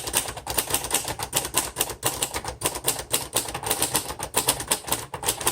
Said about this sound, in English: So this typewriter, it's typing very well.